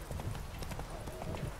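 Horse hooves galloping in The Witcher 3, a fast steady clip-clop rhythm over game ambience, fairly close and clear.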